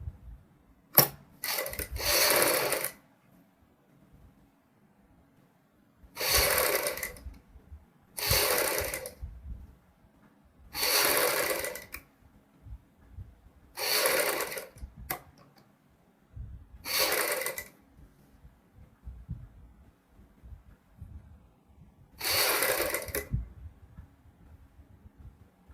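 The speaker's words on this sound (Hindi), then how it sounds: "अब हम ऊपर से शुरू करेंगे पाइपिंग लगाना," Sewing machine stitching piping onto a kurti neckline, running in six or seven short bursts of rapid mechanical clatter separated by quiet pauses, close and fairly loud.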